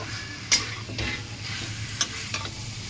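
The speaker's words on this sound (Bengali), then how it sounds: "আবার 10 মিনিট মতন আবার কষিয়ে নেবো একটু ভালো করে।" Fried paneer, potatoes and peas sauté in spiced masala in a pan with a constant close sizzle, broken by a few sharp scrapes of a spatula against the pan.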